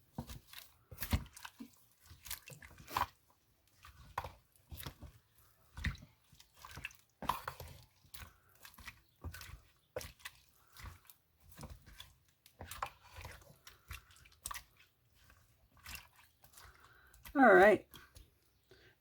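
Chicken fajita ingredients get stirred in a slow cooker with a spoon, giving quiet wet squelches and clicking scrapes in an irregular rhythm, with a brief louder knock near the end.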